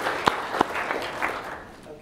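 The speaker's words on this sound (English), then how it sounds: "I want us to give them a warm round of applause." A modest audience at a talk gives applause that sounds fairly distant and thin, with a few sharp individual claps standing out over a soft, continuous patter lasting about two seconds.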